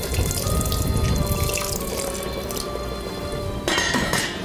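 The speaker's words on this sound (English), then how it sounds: "I'm just going to pour the remaining of this juice into my pork chops." Pineapple juice is poured onto pork chops in a pan, giving a continuous liquid splash and trickle with a few light clinks of kitchenware, close and fairly loud.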